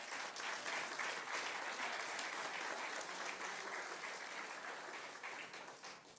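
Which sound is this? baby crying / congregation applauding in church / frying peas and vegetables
congregation applauding in church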